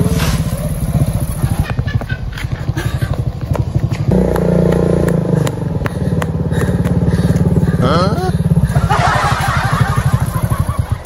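A motorcycle engine running close by with a rough, rattling idle and revving, steady throughout, while people talk over it.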